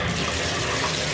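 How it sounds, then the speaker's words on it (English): Tap water gushes steadily into a bathtub as it fills for a Lush Wizard bubble bar soak, a close, continuous broadband rush with no voices. "So, I'm going to turn the water on."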